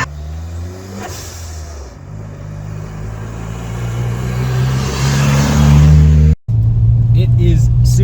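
A turbocharged Nissan Micra engine labours up a steep hill in fog, a steady low drone that builds in loudness, cuts out abruptly for a moment, then resumes, with a voice speaking over it.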